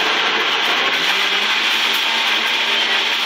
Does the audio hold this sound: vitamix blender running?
yes